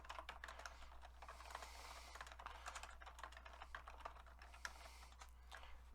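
Fingers type on a Commander X16 computer keyboard in quick, uneven bursts of close, crisp key clicks over a low steady hum, with no voices.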